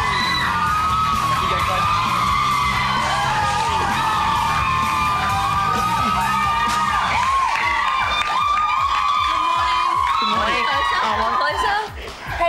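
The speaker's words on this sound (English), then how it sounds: "Let's give him a clap." A studio audience on a 1999 ABC TV show cheers, whoops and yells loudly and continuously, with shouts throughout and scattered clapping mixed in.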